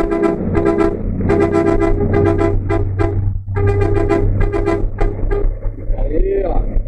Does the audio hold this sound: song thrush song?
no